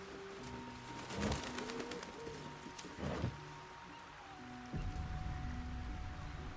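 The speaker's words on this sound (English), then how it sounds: "Pigeons. Can we kill the pigeons?" Pigeons coo in a Baldur's Gate 3 game scene, soft repeated calls sitting over a steady ambient hum, with a few brief rustling bursts and louder transients scattered through.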